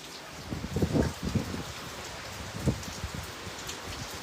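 Steady heavy rain hissing down in Manila, with a few louder splashes and patters standing out against the constant wash.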